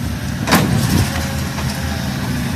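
A small excavator engine revs with a sharp, loud burst of noise near the start, then settles into a steady, close mechanical rumble.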